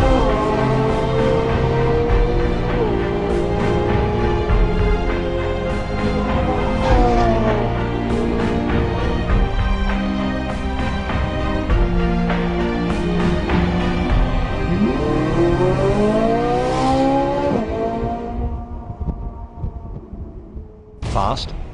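Ferrari 458 Italia V8 engine accelerating hard, with rising and falling gear-change sweeps repeated over a long, loud continuous run, tapering off near the end; faint voices may sit beneath it.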